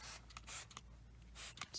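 Cleaner sprayed onto the carpet of a Mazda 6, several short hissing bursts in a quick irregular rhythm, close and fairly quiet.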